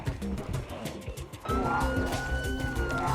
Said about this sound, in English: my plan was originally to use that siren to pull all the zombies away